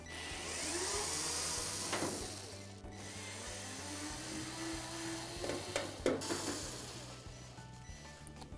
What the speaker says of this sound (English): Now to remove that control board, we need to take out these three screws that secure it.